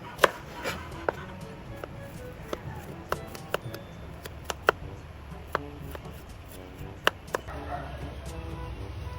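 A knife cuts and pounds fresh ginger on a board, giving sharp, irregular knocks and taps, some loud and close, over a low background hum, with no talking.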